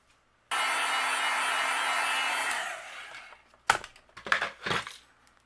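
A heat tool melts white embossing powder on a stamped gift card holder, blowing a steady, close airy roar for about two seconds before cutting off, followed by a few short rustling handling noises.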